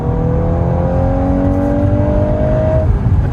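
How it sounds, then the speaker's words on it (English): A latest-generation Volkswagen Golf R with 315 horsepower and torque vectoring accelerates hard. Its engine drones loud and close, and the tone climbs steadily as it pulls before easing off near the end. "that is over 300 horsepower worth of acceleration"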